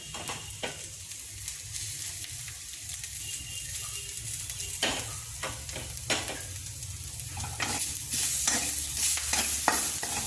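Curry leaves hitting hot oil for a chana tarka, a dense crackling sizzle with sharp pops and bursts near the pan, swelling louder toward the end, with no talking.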